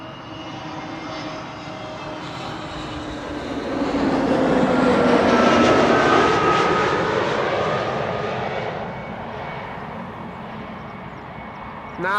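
EasyJet Airbus A320neo jet arriving at Amsterdam Schiphol from Prague, engine whine and roar swelling to a loud close pass midway, then tapering off, alone without talk.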